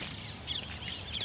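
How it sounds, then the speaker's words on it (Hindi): Pigeons gather at Humayun's Tomb, a monument in Delhi: soft, brief bird calls rise over a steady murmur of outdoor background noise. "देखिए जैसे कबूतर बहुत सारे हैं"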